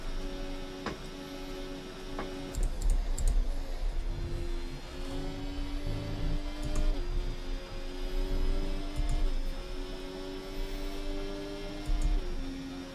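Haas F1 car engine at full speed in the racing game F1 24 at Monza, a steady droning whine with layered harmonics that holds throughout, wavering slightly in pitch with no talk over it.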